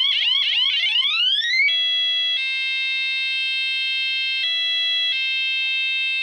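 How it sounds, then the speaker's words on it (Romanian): Electronic police siren fitted to a police bicycle, several rapid rising yelp sweeps followed by a loud steady two-tone electronic wail that switches pitch a few times, close and clear with no voices. "Sirene de poliție, mă!"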